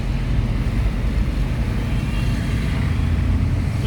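A car pulling away during a driving lesson as the clutch is eased out and light throttle applied, giving a steady, loud low engine rumble with road noise throughout and no talking.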